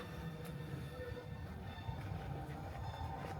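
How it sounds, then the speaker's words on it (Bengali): A train pulls into a small village station in Switzerland, its steady low rumble and rolling noise holding constant and moderately loud throughout, with no voices. "ও, ট্রেন চলে আসছে।"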